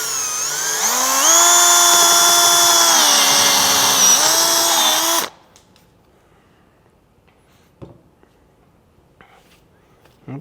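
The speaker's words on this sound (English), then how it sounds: "I'm going to line up the pilot bit with the mark that I made, and I'm going to go ahead and drill this hole." A power drill with a pilot bit bores a hole for an Aquatherm sidewall fusion outlet, whining loudly and steadily for about five seconds before stopping abruptly, followed by quiet with a few faint clicks and handling sounds.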